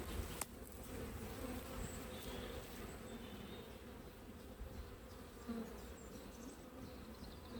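Honeybees in a top bar hive, a soft continuous droning buzz with individual bees passing nearer now and then, faint and steady throughout.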